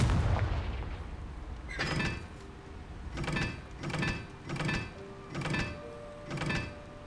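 Repeated Confringo spell blasts in the video game Hogwarts Legacy, six muffled booming bursts at roughly one-second intervals after a louder opening rumble, with no speech.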